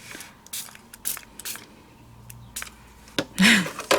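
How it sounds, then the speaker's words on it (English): Several short hissing sprays from a bottle misting water onto paper flowers, spaced irregularly, close by, with a louder burst near the end. "Spray them with a little water."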